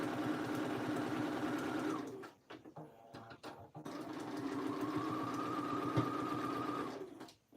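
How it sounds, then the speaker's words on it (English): A serger stitches jacket seams in a fast, steady whirring run. It pauses briefly with a few clicks and handling sounds, then runs again. The machine is close, and nobody speaks. "we're gonna go right back to that serger and I'm gonna go ahead and do that again"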